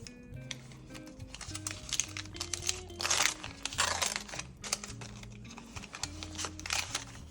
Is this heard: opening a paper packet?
yes